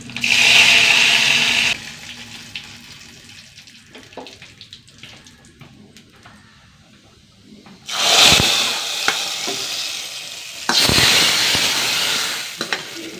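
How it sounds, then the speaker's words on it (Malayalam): Mustard seeds, dried red chillies and curry leaves tempering in hot coconut oil in a pan, a loud close hiss at the start, then a quiet stretch, then two more bursts of strong crackling sizzle. No one speaks. "ഇനി ഒന്ന് താളിച്ചൊഴിക്കുക ഇത്രയേ ഉള്ളൂ"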